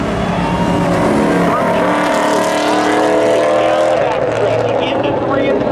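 Subaru launching in a drag race at Seekonk Speedway, engine noise loud and sustained throughout with crowd and announcer voices mixed underneath.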